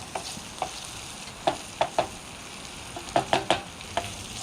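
Onions sizzling in a pan on a camping stove on a city balcony, a quiet steady fry broken by a series of sharp scraping stirs and spatula clicks.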